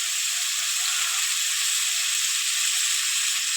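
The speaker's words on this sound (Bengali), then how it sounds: "এবার ভালো করে কষিয়ে নেব লবণ আর হলুদ দিয়ে।" A fish curry base sizzles steadily in a hot pan with salt and turmeric, making a continuous bright frying hiss at even loudness, close up, with no talking.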